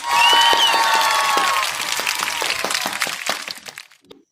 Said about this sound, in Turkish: Bir alkış gelsin bakalım.